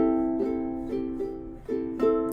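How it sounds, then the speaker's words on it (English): Quick, repeated strums on a ukulele ring out alone, with bright chords restruck about every half second so each one blends into the next. "So when you strum like quickly, it kind of sounds like this."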